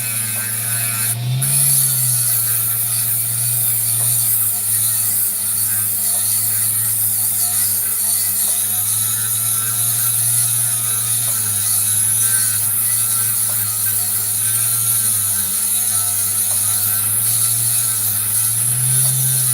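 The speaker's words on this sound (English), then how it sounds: "I've never used a cab machine, but I do advocate, if you're going to get into the opal cutting biz, this is probably the simplest way to do it" A cabochon machine grinds an opal with a steady mechanical whir and low hum, broken by occasional ratcheting clicks and scraping contact, running continuously and loud with no voices.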